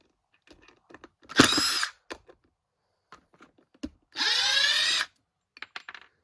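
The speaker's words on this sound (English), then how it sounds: "It put in 5 screws and it took out 5 screws." A RIDGID 18V R86002 impact driver whirs and hammers in two short bursts, about half a second and one second long, each framed by small clicks, taps and handling noises of screws and workpiece, close and fairly loud.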